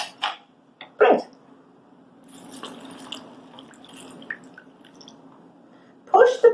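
Bread soaked in custard mixture is pressed down, giving a few wet squelching and dripping sounds, close and intermittent over quiet kitchen background.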